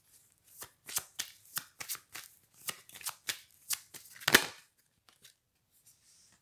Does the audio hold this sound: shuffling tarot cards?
yes